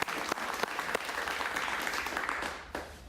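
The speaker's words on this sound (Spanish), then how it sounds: "Un aplauso para el" Studio audience applause on a television talk show, a dense burst of clapping from a crowd, steady and fairly loud with a few sharper claps near the start and end.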